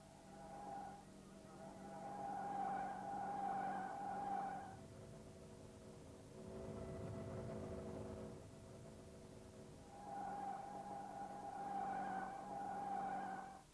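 An Alfa Romeo car, one of the 146, 155, GTV or Spider line-up, corners on a constant-radius curve during a steering test, its engine holding a steady tonal drone that changes in two sustained stretches with tyre noise underneath.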